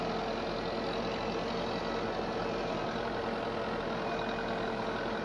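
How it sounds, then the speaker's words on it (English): A tractor engine in Farming Simulator 22 runs steadily at a constant drone, a low idling rumble with no change in pace or any speech over it. "The new tractor is handling this very well."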